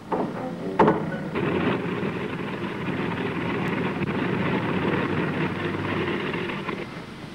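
A Hastings aircraft in flight, its droning propeller engines giving a steady, moderately loud rumble with a buffeting wind-like roar throughout.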